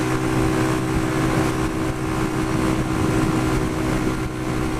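A Pioneer Torro XF125S motorcycle cruises along steadily, its engine droning in an even, unbroken hum mixed with wind rush, close and fairly loud throughout with no voices.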